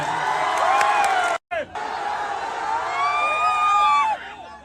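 A rally crowd cheers and shouts loudly all around, breaking off briefly before the roar builds again with whoops, as the crowd is urged to raise hands and clap.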